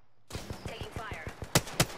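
Rapid gunfire in the video game Apex Legends, a steady run of sharp close shots with two louder bursts near the end, under in-game voice lines.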